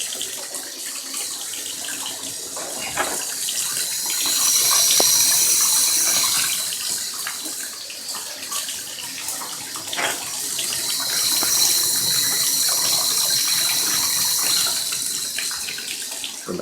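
Tap water runs steadily over trumpet valves being rinsed at a sink, a continuous splashing hiss that swells and eases as the valves move under the stream, with occasional clinks of metal.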